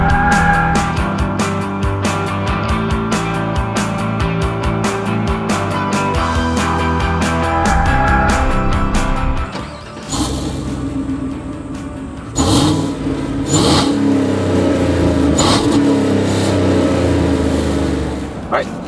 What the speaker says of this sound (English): Give the engine a little bit of gas and let go.